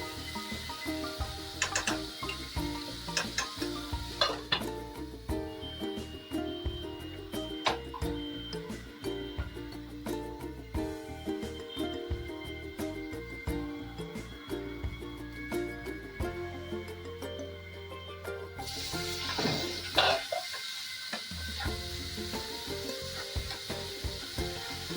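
Spice paste for a Bengali mushroom curry sizzling in hot oil in a pan, a steady close crackle with scattered sharp ticks and spatters, stirring scrapes, and a brief louder burst of sizzle near the end.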